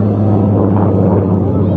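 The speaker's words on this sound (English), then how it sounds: "This is North American aviation's first ever twin-engine bomber." A North American B-25 twin-engine WWII bomber flying at an airshow in Las Vegas, a loud, steady low piston-engine drone that holds at an even level throughout, with no clear voices on top.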